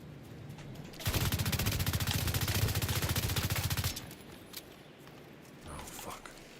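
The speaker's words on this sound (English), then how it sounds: "where are these guys shooting from?" Automatic gunfire in The Division 2 during a PvP conflict match, a loud, steady rapid burst lasting about three seconds between quieter stretches of faint background noise.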